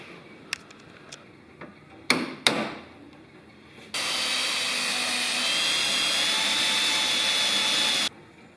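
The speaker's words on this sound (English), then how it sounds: "I'm just going to drill another hole to put an M6 bolt in and thread it" A power drill bores a hole for an M6 bolt in a Unimog's central lock, a steady high whine lasting about four seconds after a few sharp knocks and taps from handling the part.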